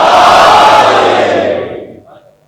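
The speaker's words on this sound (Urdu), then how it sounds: "کوئی بچہ بھی ایک نعرہ لگا رہا تھا نعرے" A crowd at a religious gathering in a mosque roars a loud chanted slogan, the voices merging into a sustained shout that fades out over about two seconds.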